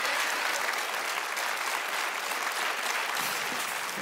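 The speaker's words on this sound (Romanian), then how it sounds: "Aplauze pentru Oase." Studio audience on a Romanian television show applauds steadily, a dense, even wash of clapping that holds at a constant loud level for the whole stretch with no voices over it.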